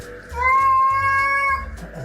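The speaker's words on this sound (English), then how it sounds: "I got a cat over here at the ATM" A cat meows at an ATM, one drawn-out, clear, loud meow heard up close with nothing else over it.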